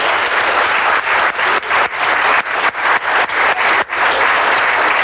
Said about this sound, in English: I'd like you all to give a round of applause.